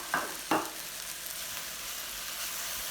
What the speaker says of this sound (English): My onions are softening up nicely. Now I'm going to add the peppers.